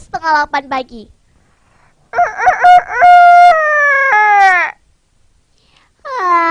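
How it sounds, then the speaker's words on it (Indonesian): A rooster crows at morning with one long drawn-out call, loud and close, between a child's spoken lines. "Terdengar suara ayam berkokok"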